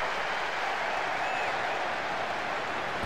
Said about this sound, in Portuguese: torcida gostou da ação do zagueiro.